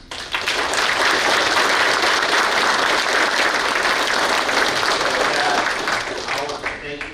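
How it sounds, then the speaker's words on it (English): A town hall audience in San Angelo breaks into a sustained round of applause that starts almost at once, stays dense and loud for several seconds, then thins slightly toward the end. "That deserves a round of applause."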